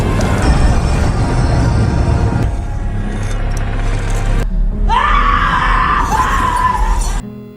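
A loud, sustained scream rises over a heavy rumbling background, cutting off abruptly at the end.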